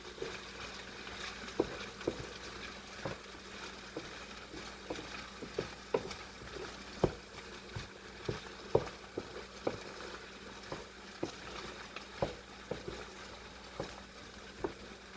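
Rice frying in a pan for fish fried rice, with a low steady sizzle broken by irregular scrapes and taps of stirring, faint and fairly quiet throughout.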